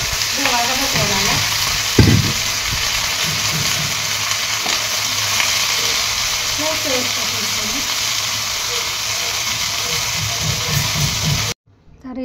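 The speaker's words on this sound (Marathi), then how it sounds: "इथं कणी भाजी फोडणीला टाकलेले" Vegetables hit hot oil for a tempering, giving a steady, loud sizzle that fills the whole stretch, with a sharp burst near the start and faint voices underneath before it cuts off.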